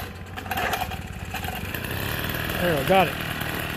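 A small gas engine on a motorized bicycle sputters to life while being pedaled, catching into an uneven, buzzing two-stroke putter that keeps running, with someone speaking briefly over it.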